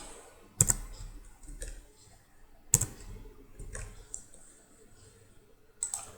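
A computer keyboard used to type Java code gives a few sparse, sharp key clicks spaced a second or two apart, close and quiet against a faint background hiss.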